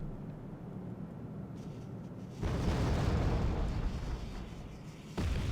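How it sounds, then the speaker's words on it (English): Artillery shells explode in the real-time strategy game Wargame: Red Dragon, with a steady low rumble broken by two heavy, broad blasts, the first swelling and lingering and the second arriving near the end. "Artillery still coming in"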